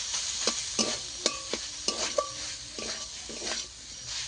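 Potato filling for aloo kochuri cooked down in a pan, with repeated scraping stirs of a spatula over a steady sizzle, close and fairly quiet, no talking.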